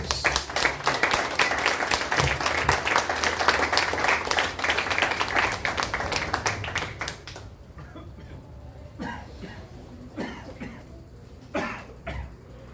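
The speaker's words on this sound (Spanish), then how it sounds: "Dale un fuerte aplauso a Jesús" A church congregation claps loudly for Jesus, strong rhythmic applause for about seven seconds, then tapering to scattered claps and a few coughs.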